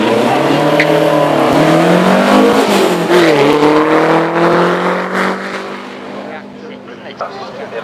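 A Lotus Elan S3 races up a hillclimb course, its engine loud and close as it revs and drops in pitch. It fades toward the end while a commentator talks over it.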